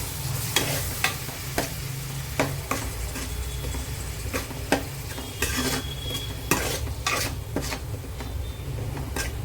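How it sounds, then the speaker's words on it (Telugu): Ginger garlic paste fries in a pan for a fish curry, a steady low sizzle broken by repeated sharp scrapes and taps of a spoon stirring against the metal, close up and without talk. "అల్లం వెల్లుల్లి పేస్ట్ వేసుకొని కొంచెం కలుపుకుందాం."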